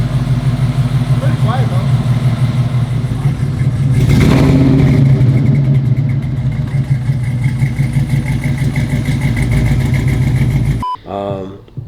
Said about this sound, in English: Project Monte Carlo SS is now officially running.